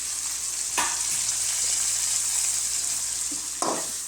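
Onions frying in a pan make a bright, continuous sizzle close by, broken by a few louder bursts of stirring. No one speaks.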